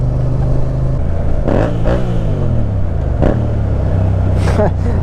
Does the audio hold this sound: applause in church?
no